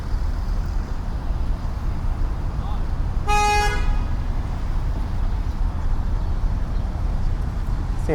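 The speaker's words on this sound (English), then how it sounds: "Seems like a lot of unnecessary honking going on." A single car horn toots in downtown Toronto traffic, a short, bright honk lasting about half a second over steady street and engine noise.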